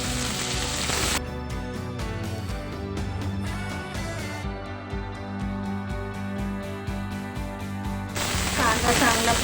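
Finely chopped onions and green chillies frying in a pan, a hissing sizzle heard clearly at the start and end, while background music with a steady beat covers it in the middle.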